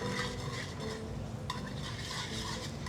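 Pasta is stirred with pecorino cheese in a hot pan for a summer cacio e pepe, giving close wet scraping and stirring with light clinks of a utensil against the pan, plus a faint sizzle.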